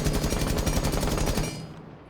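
Close, loud automatic fire from a gun in Rainbow Six Siege, a fast steady stream of shots that stops abruptly and leaves a short fading tail.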